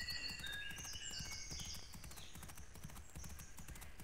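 Steady clip-clop of a horse's hooves on a long ride through open country in the Pippa Funnell stud farm game, rhythmic and continuous at moderate level with faint wind and birdlike tones above.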